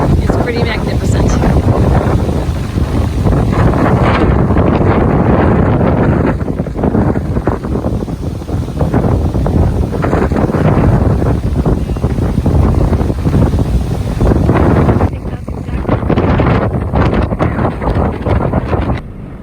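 Loud, continuous wind buffeting a microphone, rumbling gusts outdoors in Santa Barbara, with a person speaking underneath at times.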